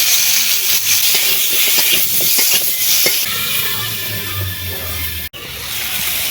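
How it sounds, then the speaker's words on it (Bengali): Potatoes and drumstick pods go into a little oil in a wok with a loud, close hissing sizzle, first broken by quick clattering, then settling into a steadier roar with a brief cut. "এবারে কড়াইতে দেখুন অল্প একটুখানি তেল আছে ওই তেলের মধ্যে দিয়ে দেব আলু আর সজনে ডাঁটা"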